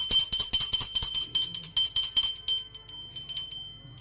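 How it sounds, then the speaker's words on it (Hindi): A small prayer bell rings rapidly and continuously during a Diwali puja, bright metallic strikes in a quick steady rhythm that soften slightly toward the end. "अभी घंटी"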